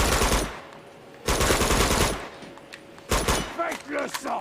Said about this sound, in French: Alors regardez, je reste planqué et je tire à côté.